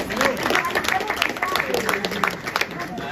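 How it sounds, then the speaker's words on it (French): Applause from an audience at a graffiti prize ceremony in France, a steady patter of clapping and crowd noise running throughout with voices mixed in. "On peut applaudir."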